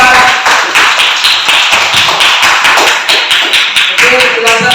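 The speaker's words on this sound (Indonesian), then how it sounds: "Silakan aplaus untuk kelompok 4" A classroom group claps together in steady, loud, rhythmic applause for the fourth group's presentation, close and continuous with no pauses.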